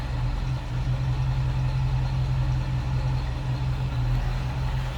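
A stock 1950 Pontiac Chieftain 8 convertible engine idles steadily and close by with a low, even rumble, no voices over it.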